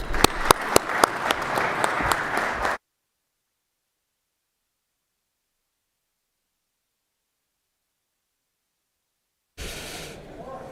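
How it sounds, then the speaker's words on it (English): A Senate chamber crowd claps for Jackson County youth leaders, a dense burst of applause cut off abruptly, then silence before the applause briefly returns. "we'd like to give you a big round of applause"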